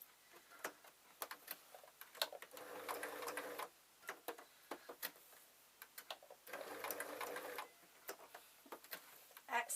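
A sewing machine stitching a felt Christmas tree star runs in several short bursts and two longer whirring runs, each separated by pauses and clicks as the fabric is repositioned.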